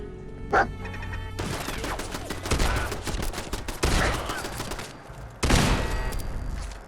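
Rapid bursts of gunfire from a gun in Fallout 4, loud, close and repeated in clustered volleys with brief pauses, plus a sharp isolated crack near the start and a final heavy burst.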